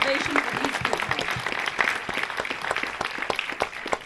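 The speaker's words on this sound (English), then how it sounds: "Standing ovation for these people." An audience at a film festival Q&A gives a standing ovation, with sustained, moderately loud clapping from many hands and no talk over it.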